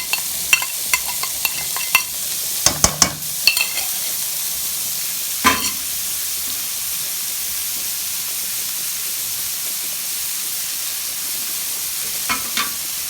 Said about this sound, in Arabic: هنا غنزيدو البصله حار